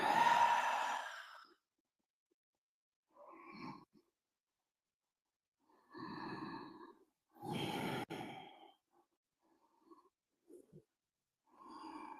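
Several slow, audible exhales and breaths during a seated forward fold in a yoga session, close and breathy, separated by quiet pauses with a few softer breaths between.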